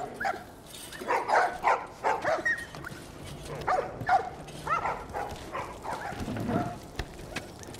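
A dog in the Quarantine Zone of The Last of Us Remastered video game barks and whimpers, giving a run of irregular yips and whines at moderate distance over a low game ambience.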